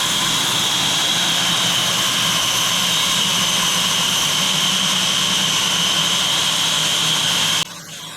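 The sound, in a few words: saw with steel demon metal blade cutting steel side plate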